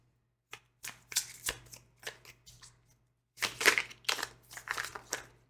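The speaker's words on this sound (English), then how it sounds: "This deck is kind of hard to shuffle." A deck of tarot cards is shuffled by hand in irregular bursts of crisp riffling and slapping, close and fairly quiet, with a short pause midway before a denser flurry.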